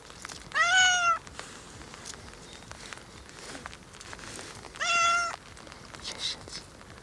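A cat meows twice, each call clear and drawn-out, separated by several seconds of quiet room tone with faint rustling.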